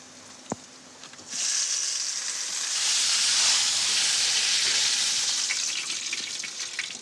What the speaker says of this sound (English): We're going to seal the meat, so I'm just going to drop it in now.